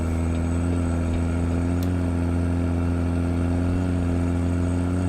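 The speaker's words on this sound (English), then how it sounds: "Could hear the cat engine a scream out" Caterpillar diesel engine of a Peterbilt short sleeper truck in American Truck Simulator, a loud steady drone with strong low hum holding throughout, no voices.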